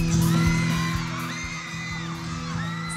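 Fans whoop and shout loudly for visiting TV celebrities at the Mango Bamboo Festival in San Carlos City, Pangasinan, a dense festival crowd roaring steadily with high yells over a constant low hum.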